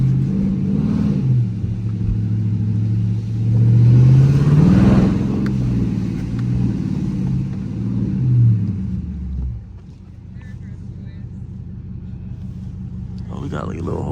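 A Dodge Charger R/T drives through city streets at night, its engine rumbling loudly and rising in pitch as it accelerates before settling to a lower cruise. Voices talk over it at times.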